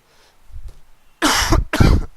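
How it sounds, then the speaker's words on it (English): A person with a cough during an online lecture on exact differential equations coughs hard twice, loud and close, after softer throat noises and breathing, with no talking. "I'm down with cough"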